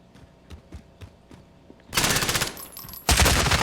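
MP7 submachine gun firing in Warzone: a few soft footstep-like taps, then two loud, sustained bursts of rapid automatic fire close up, with no talking.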